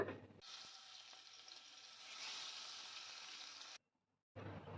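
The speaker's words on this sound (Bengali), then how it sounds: "এবার চিংড়ি মাছগুলো আমি এপিটোপিট করে ভেজে নেব" Shrimp fry in hot mustard oil with a quiet, steady sizzling hiss that swells slightly, cuts out briefly, then resumes.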